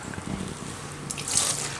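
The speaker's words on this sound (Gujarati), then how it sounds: "ઉપરથી થોડું ઠંડુ પાણી નાખી દેવું" Cold water is poured over freshly boiled pasta in a strainer in a home kitchen, a soft trickling splash that grows a little fuller toward the end.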